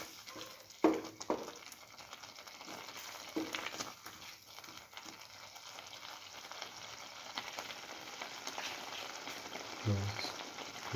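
Eggs being slowly scrambled and fried in a pan for scrambled egg cucumber coconut rice, giving a steady soft sizzle with scraping stirs and a few louder clanks, close by and without talk.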